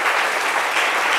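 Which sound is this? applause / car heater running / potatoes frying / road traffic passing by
applause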